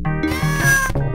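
A cartoonish cat meows in the Sega Genesis video game Marko, one loud, tonal, synthesized yowl of about a second that rises and falls, heard alone and close.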